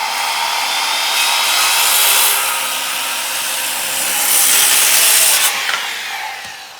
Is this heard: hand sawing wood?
yes